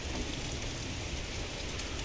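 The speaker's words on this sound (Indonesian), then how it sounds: "Hujannya lumayan lebat ya." Heavy rain falls steadily, a dense, even hiss that fills the whole stretch with no pauses and no voices.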